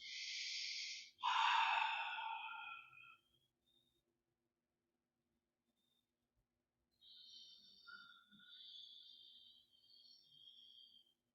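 Breathing during a kundalini yoga exercise: a sharp, forceful breath, then a longer rushing exhale, a pause of near silence, then softer wheezy breaths, all close and quiet.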